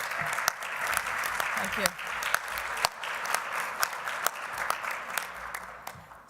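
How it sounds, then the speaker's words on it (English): A conference audience at a medical association plenary session applauds its sponsors with a steady, dense round of clapping, while a voice speaks briefly over it. "Could you please stand up and take a round of applause?"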